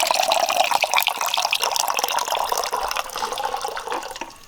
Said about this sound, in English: And then top it up with water.